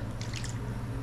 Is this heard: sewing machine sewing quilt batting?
no